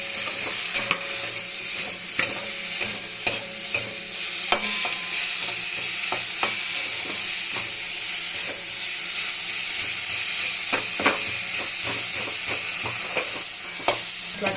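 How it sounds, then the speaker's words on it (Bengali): Spices for a prawn, cauliflower and eggplant curry sizzle steadily in a pan, with frequent scraping and clinking stirs of a spoon throughout, close and fairly loud, no talking. "এখন এই অবস্থা এই মশলাগুলো সব দিব একসাথে, দিয়ে একটু নাড়াচাড়া করব।"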